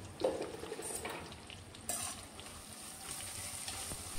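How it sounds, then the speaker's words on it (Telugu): A ladle stirs spices, curry leaves and mint in an oiled pan for Godavari-style prawn pulao, giving a steady close sizzle with scraping strokes and a louder clatter midway. "ఇవి బాగా కదుపుకుని గరిటితో"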